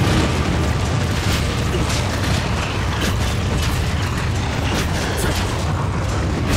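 Fire spewed at the player by a foe in Dragon's Dogma Dark Arisen, heard as a loud, continuous roaring blast with rumbling booms and crackling bursts throughout, and no talking over it.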